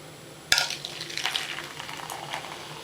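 1893 Pepsi cola poured into a glass, starting with a sudden splash and continuing as a steady fizzing, bubbling stream for a few seconds, close and moderately quiet, with no talking.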